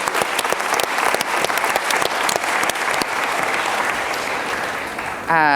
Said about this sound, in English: big round of applause for Cashboard